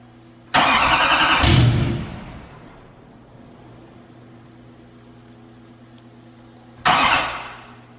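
A 2020 L5P Duramax diesel truck, freshly fitted with a new DPF, cranks loudly for over a second on its first start, then falls quiet to a low hum before a second brief crank.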